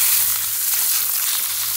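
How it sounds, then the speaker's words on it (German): Food sears in olive oil in a hot pan, a steady close sizzle and crackle of frying that runs without a break and with no one talking. "Einmal kräftig von allen Seiten anbraten."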